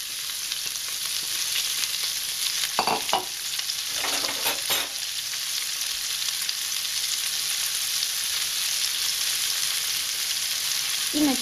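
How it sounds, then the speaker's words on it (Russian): Steady sizzling of leek frying in sunflower oil in a hot pan, with a few brief scraping stirs early on. "Буквально минутку обжариваем лук-порей на огне."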